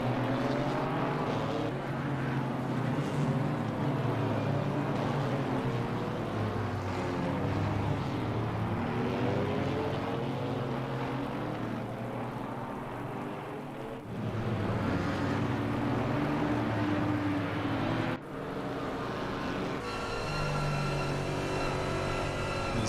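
Sustained engine drone of a GT4 race car in a PC racing game at Zandvoort, a steady loud tone that rises and falls with a cut near the end and no talk.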